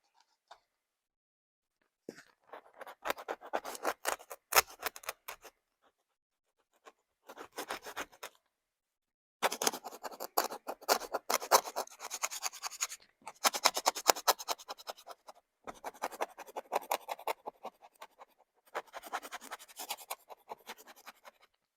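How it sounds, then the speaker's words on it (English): Scraping material off a sketchbook cover, a close, dry rasping scratch repeated in bursts of short strokes separated by brief pauses, rough and gritty throughout. "I was hoping that I could scrape all of this off without damaging the cover"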